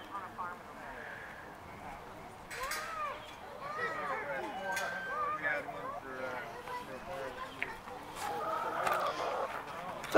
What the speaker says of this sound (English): Oh, a chicken's talking to you.